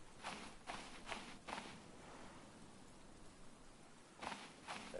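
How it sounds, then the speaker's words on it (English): Rain falls in the survival video game Stranded Deep as a faint, steady hiss, broken by soft rhythmic thumps like footsteps near the start and end. "Please tell me it's just a little bit of rain and I can just, like, peace out."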